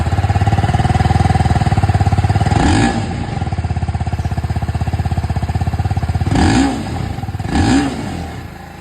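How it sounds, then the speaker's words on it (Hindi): A TVS Apache RTR 310 motorcycle engine idles steadily and close, with a low rumbling throb broken by three quick throttle blips that swell and fall back to idle. "अब मैं आप लोगों को यहाँ पर ये जो RTR 310 है ये भी मैं आप लोगों को सुना देता हूँ"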